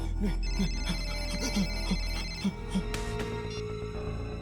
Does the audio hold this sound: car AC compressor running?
no